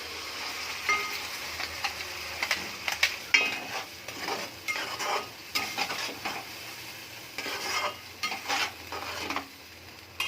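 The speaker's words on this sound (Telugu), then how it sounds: "ఇప్పుడు గ్రేవీ వేస్తున్నాం కదా, దీన్ని వేసేద్దాం" Gravy goes into a pan of paneer butter masala, bringing a soft sizzle and quiet, irregular scraping and tapping from stirring in the pan, with no one speaking.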